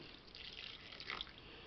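Warm water is poured over yeast and sugar in a kitchen, a soft, faint trickling splash lasting under two seconds.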